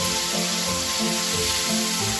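Food sizzles steadily in a hot pan while being stirred until browned, a continuous close frying hiss with faint scraping under it, no talking.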